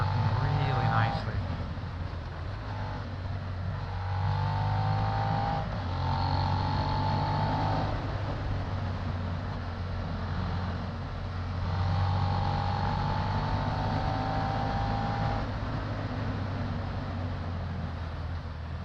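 Suzuki SV650 motorcycle cruising with a steady engine drone and wind rumble, shifting slightly in pitch as the rider eases off, with a rider talking over it throughout.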